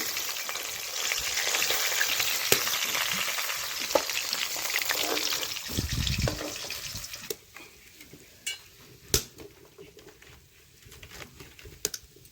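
Big pangas fish pieces frying in hot oil, a busy crackling sizzle that fades after several seconds into sparse pops and clicks as the pieces are lifted out.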